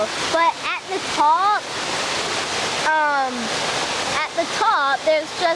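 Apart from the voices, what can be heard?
waterfall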